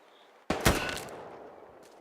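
A single loud, close M1 rifle shot in Hell Let Loose, a World War II shooter, cracks out and then rolls away in a long decaying echo.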